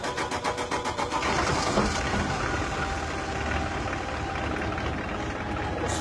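A Vauxhall Astra diesel engine, its tank just flushed of petrol contamination, cranks with rapid rhythmic pulses, then catches and runs at a steady, rough idle nearby with no talk.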